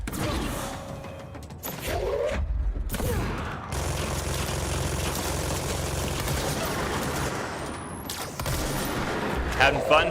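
Video game gunfire mixed with clattering mechanical clicks and ratcheting sounds, loud and continuous for several seconds, with people talking over it.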